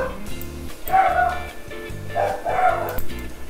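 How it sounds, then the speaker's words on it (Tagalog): Neighbours' dogs bark and yip in repeated sharp bursts, fairly close and loud, two clusters of barks over a low background hum. "pasensyahan nyo na yung mga aso ng kapitbahay namin"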